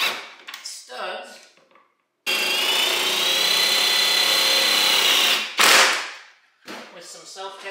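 A power drill drives self-tapping screws to mount studs on a Club Car golf cart. The motor whines steadily for about three seconds, then gives a shorter burst, loud and close, with a person speaking before and after it.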